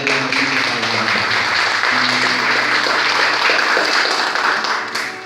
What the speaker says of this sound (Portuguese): Então aplaude a tua igreja, meu irmão.